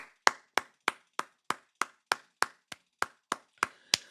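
Thirteen sharp, evenly spaced hand claps from a single person, close and crisp, each with a quick decay, in a steady slow rhythm with no other sound between.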